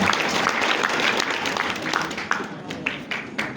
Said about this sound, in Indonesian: Tepuk tangan, aplaus bagi anak kita semua.